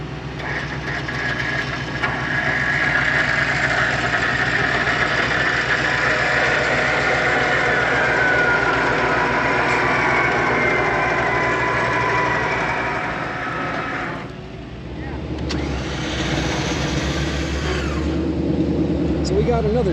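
A truck engine idles with a steady, loud, close rumble that dips briefly near the end and then settles back to the same drone.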